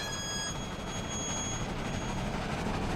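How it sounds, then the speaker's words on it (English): A railway freight car creeps forward with a steady low rumble and rattling wheels, continuous and fairly close throughout, with no voices. "At last, the train inches forward."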